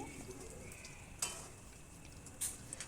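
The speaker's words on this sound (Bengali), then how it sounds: "মাছ ভাজার পরে যে তেলটা ছিল ওটাই গরম করে আমি ফোড়ন দিয়ে দিয়েছি" Quiet, continuous sizzling of tempering spices in hot oil left from frying fish, with a couple of soft metallic clinks from stirring.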